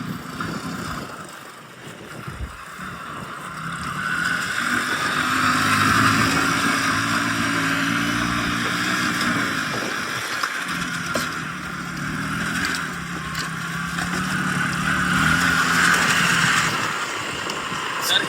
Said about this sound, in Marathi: ही शाईन गाडी आहे. शाईन गाडीचं इंजिन आहे.